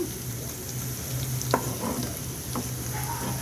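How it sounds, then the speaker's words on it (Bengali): Onions frying in a pan for a thin mixed-vegetable khichuri made with polao rice, giving a steady close sizzle with a few scraping stirs and one sharp clink, no talking. "পেঁয়াজটা আমি অতিরিক্ত ভাজবো না"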